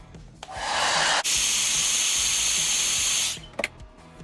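A heat gun blowing onto vinyl wrap on a BMW E46 marker light, a steady close airy hiss that switches on abruptly, holds for about two seconds, then cuts off, followed by a few faint handling clicks.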